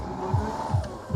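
A very low car driving an off-road obstacle course as a competitor, its engine a steady rumble with three short low bursts of revving spaced evenly, heard close with no talking.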